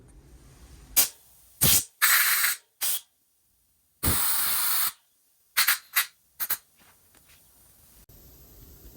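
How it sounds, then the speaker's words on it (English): Compressed air blasting through the carburetor of a 1958 Lawn Boy 5200 Deluxe mower, a series of sharp hissing bursts: several short puffs, a couple of longer sustained blasts, then quick spurts with quiet gaps between. "Okay, now that we got the carburetor blown out with the compressed air."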